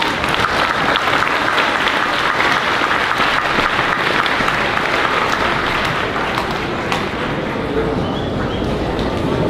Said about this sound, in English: And let's give Mrs. Ortiz's class another round of applause.